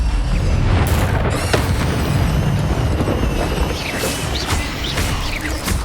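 Incendio fire spell cast in Hogwarts Legacy on PS5, a loud, dense burst of booming, crackling fire with crashes and sharp pops trailing off over several seconds.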